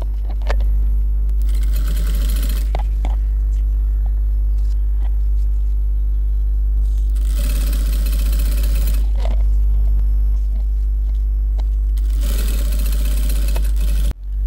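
A sewing machine stitches along the side of a fabric shopping bag belt in three separate loud bursts, each a few seconds long, over a constant low motor hum and light handling clicks between runs.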